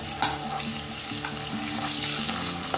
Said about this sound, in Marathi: हे सगळं आपल्याला तेलावर परतून घ्यायचं.